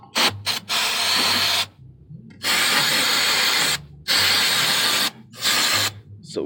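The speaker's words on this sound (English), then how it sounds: "what we do first is remove the brake fluid with some brake cleaner." Brake cleaner sprays from an aerosol can onto a car's rear brake caliper in several loud, hissing bursts of about one to two seconds each, with short pauses between them and no talking.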